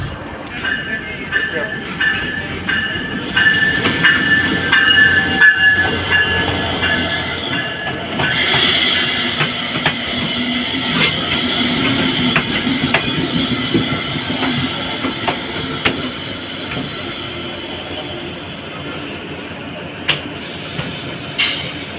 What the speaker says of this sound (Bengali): ফাইনালি ট্রেনটি কিন্তু চলে এসেছে